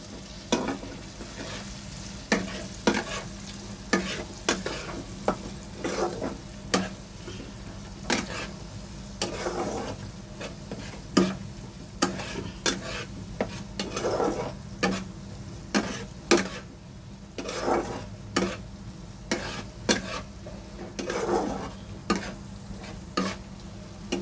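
Spice paste sizzles in a pan for a patol chingri dish, with steady frying hiss under repeated sharp scraping clicks of a spatula stirring at an uneven rhythm, close and moderately loud, no talking.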